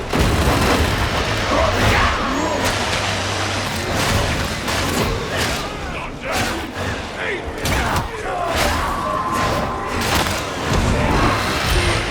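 A grenade goes off in Warhammer 40k: Darktide, a heavy boom buried in a dense, continuous wall of combat noise, clanking mechanisms and gunfire that stays loud throughout.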